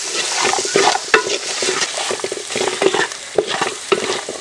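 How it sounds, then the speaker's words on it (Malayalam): Wine beef curry sizzles loudly in a pan as curry leaves go in and are stirred, steady frying crackle with repeated scraping strokes throughout. "നമുക്ക് കറിവേപ്പില ചേർത്ത് കൊടുക്കാം"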